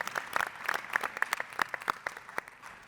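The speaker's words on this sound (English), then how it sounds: "So please, a big round of applause for them." An audience at a sponsor thank-you during a panel event claps in a sparse, uneven patter, individual hand claps standing out, fairly faint and fading toward the end, with no talk.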